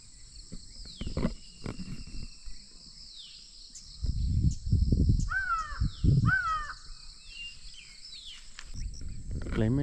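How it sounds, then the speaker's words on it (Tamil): Crows cawing in forest at the Periyar tiger reserve in Kerala, a few harsh repeated caws mid-clip amid rustling and other wild bird and insect sounds, fairly close and clear. "காக்கா"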